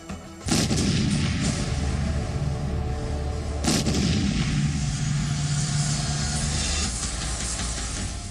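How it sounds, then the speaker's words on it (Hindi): Heavy booming blasts of artillery and rocket launcher fire roll out in a loud, continuous barrage, with a second sharp onset midway and sustained rumbling echoes throughout. "चौकियों को रॉकेट लॉन्चर और भारी तोपों से उड़ा दिया"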